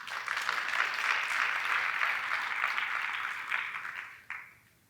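A room full of conference attendees applauds steadily, fairly distant, the clapping thinning out and fading away near the end.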